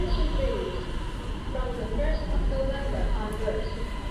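Bangkok MRT subway train at an underground station platform, a continuous loud rumble and hum of the train with faint squeals, steady throughout, with background crowd murmur.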